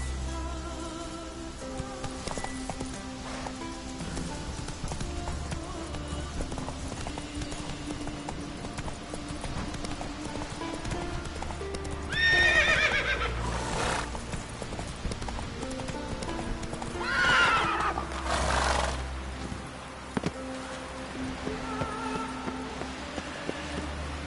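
Horse hooves clip-clopping in The Witcher 3, a steady rhythmic trot under a constant music bed, with a brief whinny or vocal swell around the middle.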